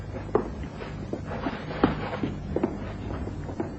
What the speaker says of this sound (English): The door to the professor's room is now wide open.